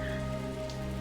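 Steady rain falls in a video game scene, a dense, even patter that holds for about a second with no voices.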